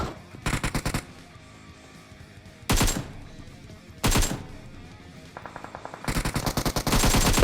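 Automatic gunfire in the game PUBG Mobile comes in four loud rapid bursts separated by pauses, each a rattling stream of shots, the last burst longest, with no voices over them.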